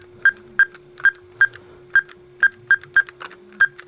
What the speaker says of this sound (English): you could probably hear the beeping that was made during that